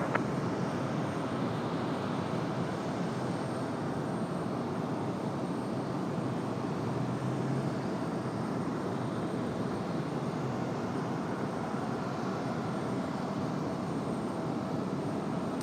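A Southwest Airlines jet departing Raleigh-Durham International in the evening produces a constant, fairly distant broadband engine rumble, even and unbroken throughout, with no voices.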